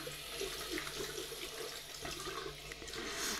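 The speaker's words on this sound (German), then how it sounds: "Und dann nehme ich lauwarmes Wasser mit meinem Schwammtuch." Lukewarm tap water runs from a faucet onto a sponge cloth, a steady close hiss and splash that continues without pause and without any talking.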